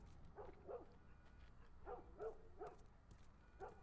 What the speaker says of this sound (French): Le chien, il est en train d'aboyer.